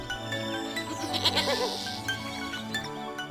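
A goat bleats in a long, wavering cry over steady background noise, fairly close and loud, with no talking.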